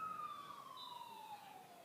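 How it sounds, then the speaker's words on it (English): An emergency siren wails on a road beside a sports ground, a single tone sliding slowly downward, faint and distant, heard alone without talk. "You hear the siren in the background here on McMillan's Road in Larrakia Park."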